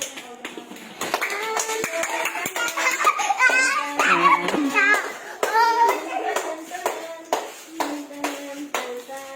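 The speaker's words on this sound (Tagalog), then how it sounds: "pumalakpak ka, tignan mo" A young child claps hands in quick irregular bursts at close range while a child babbles and laughs and adults talk over the clapping.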